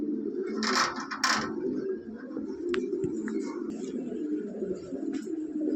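Black Lahori pigeons, a large jumbo-size running pair, give soft low cooing calls close by, with brief sharper chirps and rustles over a steady murmur.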